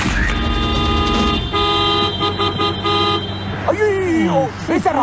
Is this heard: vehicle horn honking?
yes